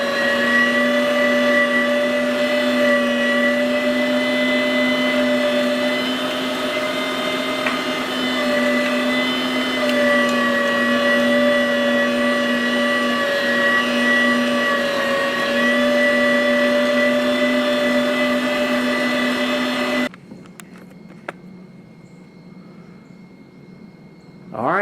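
A Harbor Freight electric meat grinder runs steadily while grinding wild hog sausage, a loud constant motor whine with strong harmonics for about twenty seconds before it shuts off abruptly, leaving quiet room tone and a few faint clicks.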